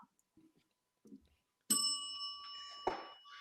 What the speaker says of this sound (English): What's the bell?